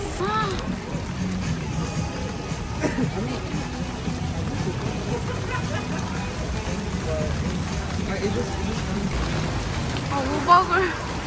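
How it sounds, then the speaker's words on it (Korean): Steady rain falls outdoors in Vancouver, a continuous dense patter on surfaces with occasional louder drops, while people talk quietly underneath. "어떡해, 비 온다."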